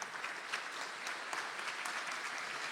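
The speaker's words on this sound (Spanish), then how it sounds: "un fuerte aplauso" Audience applause at an international conference lecture, a steady dense patter of many hands clapping at moderate level for a few seconds with no talk over it.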